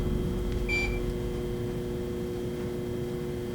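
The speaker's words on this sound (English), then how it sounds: "Your thing beeped. Does it ever beep?" An EMF detector gives a single short, high beep during a paranormal investigation at Tejas Chocolate + Barbecue, standing out once over a steady background hum of air handling.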